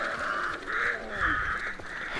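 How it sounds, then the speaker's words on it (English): Disturbed crows caw in repeated harsh bursts in the game Hunt: Showdown, several calls overlapping at moderate distance over a low ambient wash, with no talk. "Come on, crows, don't get pissed off."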